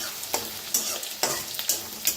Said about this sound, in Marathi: आता छान याला भाजून घेऊया।